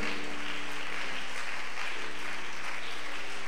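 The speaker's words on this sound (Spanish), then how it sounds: "Dele ese aplauso a Cristo esta mañana." Sustained applause from a church congregation on a Sunday morning, a dense, even wash of clapping that holds steady throughout, with a faint low hum beneath.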